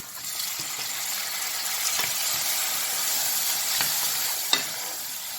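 Steady, hissing sizzle of tomatoes frying in a hot pan with garlic-ginger paste and chopped onion, continuous and close, with faint scrapes and small pops from stirring.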